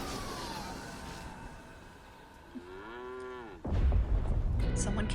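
In a music video about aliens stealing cows, a cow moos once in a long, rising and falling tone, loud and up close. Busy music plays underneath, and a burst of heavier sound cuts in right after the moo.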